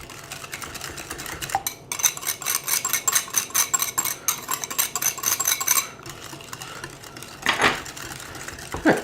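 Creme brulee custard mix being whisked in a bowl, a fast rhythmic clinking and scraping of a whisk against the sides that pauses briefly, then resumes with a few sharper knocks, close and alone.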